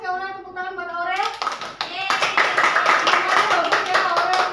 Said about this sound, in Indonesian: tepuk tangan buat Aurel